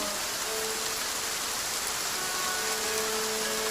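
Steady, dense rain pours down outdoors where gorillas shelter, a continuous close hiss of drops hitting surfaces with no pauses and no voices.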